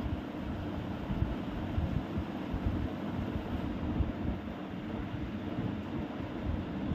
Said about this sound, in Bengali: দেখো কি জোরে জোরে হাওয়া হচ্ছিল।